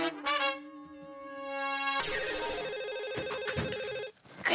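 A telephone rings repeatedly, with a steady electronic ring tone that shifts into a warbling trill, heard alone without talk.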